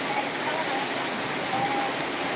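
Heavy rain pouring down at Stadion Sungai Sari during a Liga 3 West Sumatra football match, a steady dense hiss of downpour filling the whole stretch, constant and enveloping.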